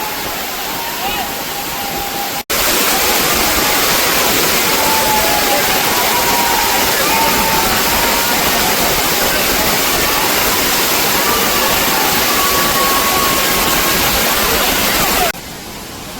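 Umbrella Waterfall at Bhandardara Dam roars as a loud, dense, continuous rush of falling water close by, with faint voices in the background.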